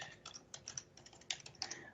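Rapid typing on a computer keyboard at a desk with several computers, a close, uneven run of light key clicks with a few sharper taps, heard alone without talk.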